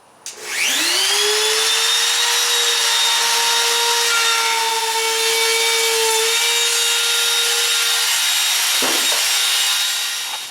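A power saw spins up and slices off the end of a floor board for a teardrop trailer, a loud steady whining cut held for about eight seconds before winding down.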